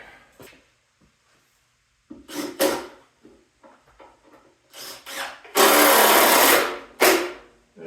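A power tool drives a screw into plywood during shop work: quiet handling knocks, then short whirring bursts and one long loud run near the end, close and with no talking.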